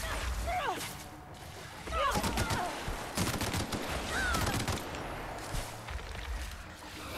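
Gunfire in The Outer Worlds video game: bursts of rapid shots and several sharp single cracks spread across the stretch, close and loud amid game effects, with a voice talking at points.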